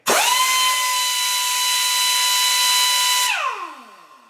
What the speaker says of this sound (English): And you can see just how much louder the pneumatic impact is.